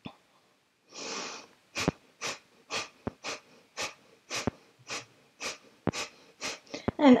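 Forceful yoga fire-breath exhales through the nose during boat pose: about a dozen sharp, evenly spaced puffs in a steady rhythm, close and clear, after one longer opening breath.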